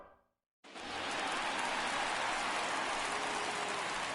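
Steady broadband rain hiss from a baseball video game's ballpark in Philly, starting abruptly after a brief silence and continuing loud and even, with no talk over it.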